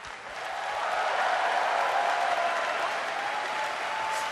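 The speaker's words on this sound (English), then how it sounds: "Please give a round of applause to our finalists." Steady applause from an indoor audience at the BlizzCon 2011 GSL grand final, swelling quickly and holding at a full, even clapping level.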